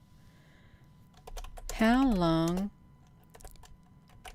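Keys clatter on a computer keyboard in short, irregular bursts of taps, with a person speaking briefly in the middle of the typing.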